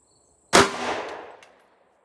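One sharp, loud .38 Special shot from a Taurus Tracker revolver with a 6.5-inch barrel, firing Hornady 125 grain XTP ammunition into a gel block. It cracks abruptly, then rings out in a decaying tail lasting about a second.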